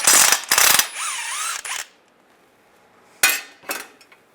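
A socket wrench ratchets loose the last bolt on the rear main seal cover of a 2007–2013 Chevy Silverado, giving sharp metallic clicks and scraping bursts, a pause, then two more short clanks.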